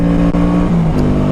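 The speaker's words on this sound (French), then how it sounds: "Petite BM là, je crois que c'est une M2 ça" A BMW M2 passing close by outdoors, its loud steady engine drone shifting slightly in pitch as it goes past, with no talking.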